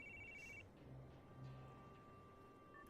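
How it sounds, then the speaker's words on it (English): A telephone rings in the Broken Sword 4 video game, electronic ring bursts at the start and again near the end, quiet over a low ambient background. "Oh, we got a phone call coming."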